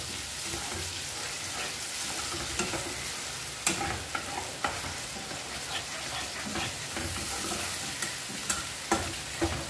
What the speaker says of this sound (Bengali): এবার কিছু সময় নিয়ে মশলাটা ভালো করে কষিয়ে নিতে হবে।